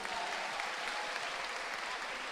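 A church congregation claps together in steady, even applause, sustained and fairly distant, filling the room without pauses.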